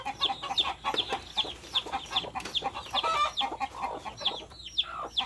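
A native hen and her chicks sound close by, with rapid, high chirping peeps overlapping soft, low clucks in a busy, continuous chatter.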